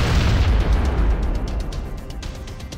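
Grenade blast in a war video game's training mode: a loud, broad booming explosion right at the start that rumbles and slowly decays over nearly three seconds, with sharp debris crackles scattered through the tail.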